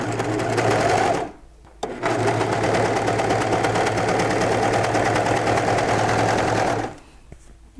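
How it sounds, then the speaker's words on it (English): A serger stitches pajama-pant fabric while it is gently stretched, a fast, even mechanical whir running close and steady, pausing briefly once and then stopping near the end. "And I'm just gently stretching this fabric out as I'm sewing."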